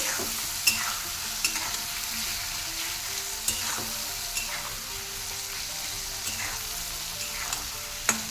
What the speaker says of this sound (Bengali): খুব ভালো করে ভাজবো